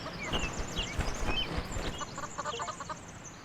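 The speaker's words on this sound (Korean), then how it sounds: "어, 병아리들이다." Chicks in a video game chirp in a busy, overlapping flurry of short high peeps, fairly close and steady throughout, with no talking.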